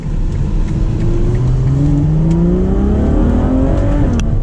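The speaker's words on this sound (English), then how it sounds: "We're going to downshift to second, and we're going to hit some twisties up here" A Ferrari 812 Superfast's V12 drones loudly from inside the cabin, its pitch climbing steadily as the engine pulls through a low gear on a winding road, with a brief sharp shift blip near the end.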